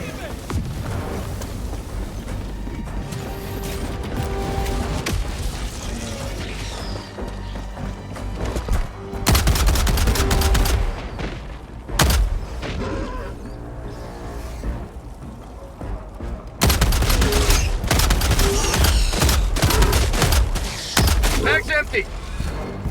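Gunfire and explosions in the video game Helldivers 2, a dense steady roar of weapons fire with heavier booming bursts, loud and continuous, with in-game voices calling out over it.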